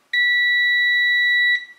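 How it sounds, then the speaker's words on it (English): A digital multimeter set to continuity mode gives one steady, loud electronic beep of about a second and a half as its probes touch together. No one speaks during it. "Let me put this on a continuity alarm"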